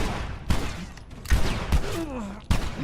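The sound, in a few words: gunfire in the video game The Last of Us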